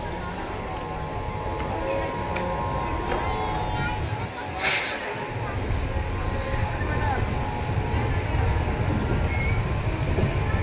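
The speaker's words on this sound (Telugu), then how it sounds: "మన ట్రైన్ స్టార్ట్ అయింది రేణిగుంట జంక్షన్ నుంచి" The Padmavati Express rumbles out of Renigunta Junction in a steady, loud low drone of rolling wheels and carriages, with a faint voice over it.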